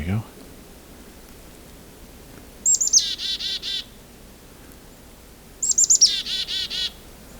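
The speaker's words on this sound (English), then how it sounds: "I'm starting to hear a chickadee in the distance." Chickadee calling outdoors in winter, two short bursts of rapid repeated chirping notes a few seconds apart, fairly clear over a soft hiss of background noise.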